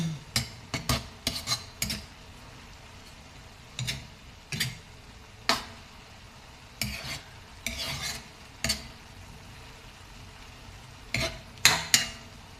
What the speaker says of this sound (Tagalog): Haluin na natin siya guys